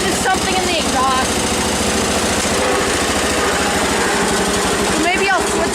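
A John Deere 317 tractor's engine idles steadily just after a cold start, a loud, close, rapid chugging throb that holds even throughout with no talk.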